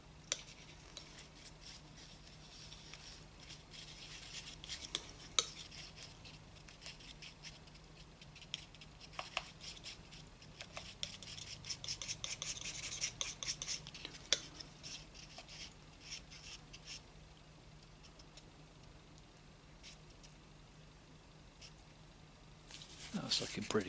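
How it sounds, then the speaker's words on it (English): Palette knife working burnt umber and yellow ochre oil paint together on a palette, a quiet continuous scraping and soft tapping close up, steady and faint throughout. "So we're going to take the burnt umber and just mix into that a bit of the yellow ochre."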